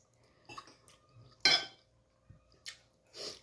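Plates, pots and cutlery clinking during dish washing in a home kitchen, a few scattered clatters with one sharper crash mid-way, close and moderately loud, no talking.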